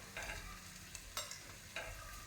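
Homemade sambar powder frying in a pan while being stirred gives a soft, quiet sizzle with a few distinct scraping strokes of the spoon, no voices.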